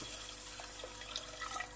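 About three cups of water poured into green moong dal in a cooking pot for a masala curry: a soft, continuous splashing pour, fairly quiet and heard alone.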